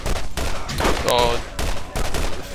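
Sniper rifle shots in Borderlands, several sharp cracks at irregular intervals over a couple of seconds, loud and close, with a brief tonal whine in the middle.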